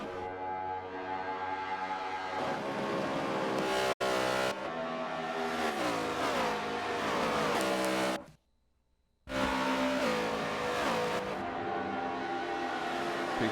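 A race car at Homestead-Miami drones steadily with pitch rising and falling as it runs, cut by a brief dropout near four seconds and a short near-silent gap before the engine roars back.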